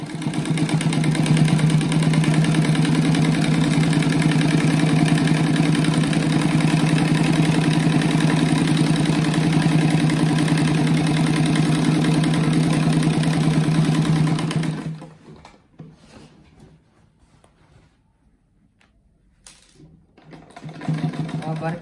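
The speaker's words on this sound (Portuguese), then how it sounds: "Agora aqui nesse lado eu vou costurar uma faixa de 4 centímetros aqui também" A sewing machine stitches a 4 cm fabric strip for a pencil-shaped fabric rug, running as a steady, close, continuous whir for about fifteen seconds before stopping and leaving near quiet.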